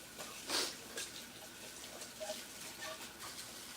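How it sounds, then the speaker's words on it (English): Washed dishes rinsed under a running kitchen faucet, a steady close splashing stream with small clinks and shifts as items pass through the water, no talking. "let me rinse this stuff I just washed"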